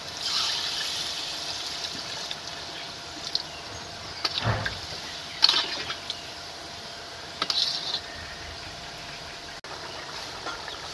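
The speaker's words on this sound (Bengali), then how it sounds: "এখন জল দিয়ে দিচ্ছি।" Water is poured into a pan of spiced potato curry (aloo dum), a faint, steady trickle and splash under quiet kitchen background, with no speech.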